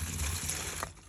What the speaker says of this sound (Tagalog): maragdaghag tubig.